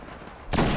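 Destiny multiplayer gunfire as three players shoot at one opponent, quiet at first, then a sudden dense burst of loud shots in the final half second.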